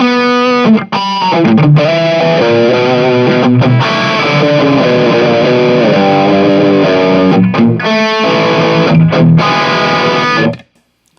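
Distorted electric guitar through a Joyo UZI pedal with its bias turned all the way up, Marshall-style growl. Loud sustained chords and riffs play steadily for about ten seconds with brief gaps, then stop abruptly.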